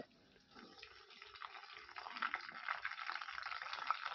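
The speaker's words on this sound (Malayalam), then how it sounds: "ഇവിടെ ഇപ്പോൾ ചിക്കൻ എണ്ണയിലേക്ക് ഇട്ട് കൊടുത്തു കഴിഞ്ഞിട്ട് ഉദ്ദേശം രണ്ട് മിനിറ്റ് ആയിട്ടുണ്ടാവും" Chicken pakoda pieces frying in oil over a low flame, giving a steady bubbling crackle that grows fuller after the first half second and continues unbroken, close and fairly quiet.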